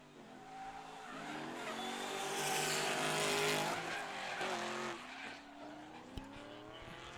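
A heavy Camaro drift car at a Colorado drift event, its engine roaring and revving with tire squeal as it sweeps through the finish line, loud and continuous, rising and then easing off.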